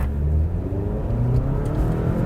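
A 2021 Toyota Camry with the 2.5 engine accelerates hard, the engine note rising steadily in a loud, continuous drone heard from inside the car, with no obvious break for a shift.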